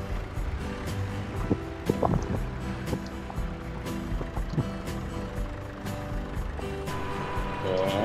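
A John Deere tractor in Farming Simulator 22 drones steadily while planting wheat, a continuous low engine rumble with shifting tonal hum throughout.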